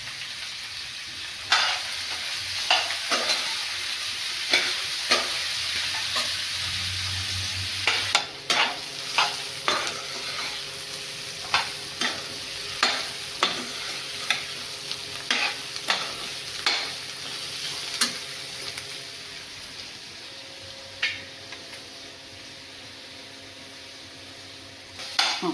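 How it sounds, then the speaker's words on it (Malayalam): Sliced onions fry in a pan for chicken curry while being stirred to brown, making a steady sizzle with regular sharp utensil scrapes and clanks against the pan. No voices are heard. "ഇളക്കി കൊടുക്കാം."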